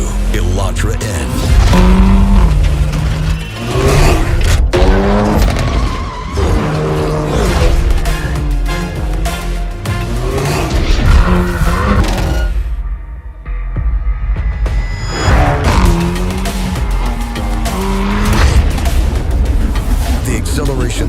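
A Hyundai Elantra N performance car accelerates with a loud, throbbing engine and exhaust roar that rises and falls through gears, layered under dramatic music and a voice-over narration, briefly dropping away near the middle.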